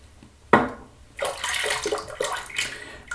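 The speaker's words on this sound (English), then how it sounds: "rinse my hands" Hands are rinsed under running water at a sink during a wet shave, a short knock followed by splashing, gurgling flow that rises and surges in uneven bursts, close and fairly quiet.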